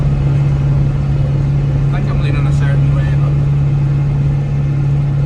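A tractor engine drones steadily from inside the cab, a loud constant low hum throughout while someone talks over it.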